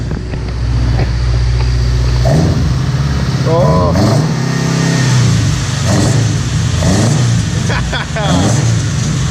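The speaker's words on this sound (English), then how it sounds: "Oh man, that ITB noise, eh?" Built naturally aspirated Volvo 740 redblock four-cylinder with individual throttle bodies revs hard and loud on the street, several sharp throttle blips rising and falling over a deep induction roar, with people talking briefly nearby.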